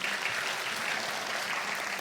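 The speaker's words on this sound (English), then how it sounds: "round of applause for all the panelists and moderator once again" Audience at a conference applauds the panelists and moderator, a steady, dense wash of many hands clapping at moderate distance, even and sustained throughout with no talking over it.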